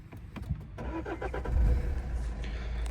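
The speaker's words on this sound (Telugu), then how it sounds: "ఒకసారి ఇంజిన్ కూడా స్టార్ట్ చేసి చూస్తున్నాను" A 2017 Maruti Suzuki S-Cross Alpha diesel starts on a single crank, a brief starter whir catching into a steady, rumbling diesel idle that stays close and fairly loud.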